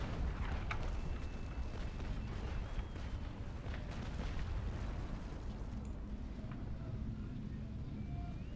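Heavy ship cannon fire in Naval Action, deep rumbling booms with sharp cracks layered over a constant low roar, the shots landing in quick succession at moderate distance.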